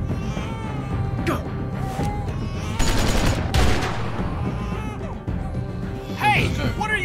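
Gunfire in The Walking Dead video game, a burst of rapid shots then sharper single cracks and loud clattering impacts, close and punchy, with game voices shouting over parts of it.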